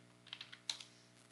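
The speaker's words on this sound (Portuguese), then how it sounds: "A senha eu vou digitar admin e vou repetir." Several quiet keystrokes on a computer keyboard, as a short password is entered during a Django tutorial setup, clicking in a loose irregular burst close to the mic with no talking.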